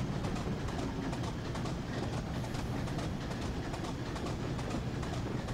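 A train in Train Simulator 2021 on the Weardale and Teesdale line rumbles past with a dense, steady roar and rapid rhythmic clickety-clack, loud and close throughout.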